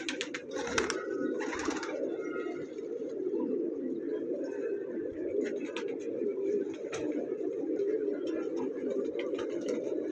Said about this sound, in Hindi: 350 कबूतर इनकी छत पे मौजूद